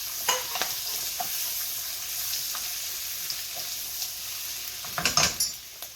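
Bok choy sizzles and fries in a pan while being stirred, with a steady frying hiss and occasional scraping clicks and bursts of louder crackle near the end.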